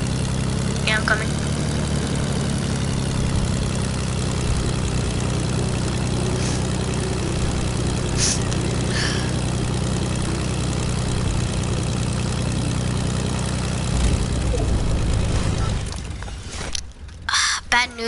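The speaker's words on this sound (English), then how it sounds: "Yeah, I'm in an airplane." A propeller airplane engine in a video game drones steadily and loudly at a low pitch for most of the clip, then cuts away near the end, with faint speech and game sounds layered over it.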